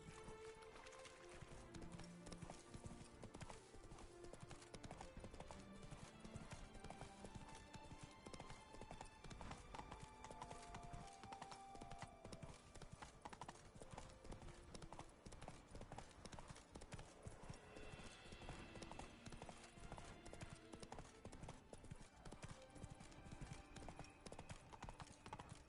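A horse gallops in The Witcher 3: Wild Hunt, with rapid, rhythmic hoofbeats running continuously and loudly under game music and ambience.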